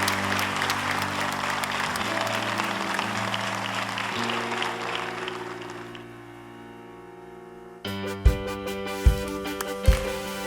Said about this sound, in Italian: Voglio l'applauso di tutti, vai,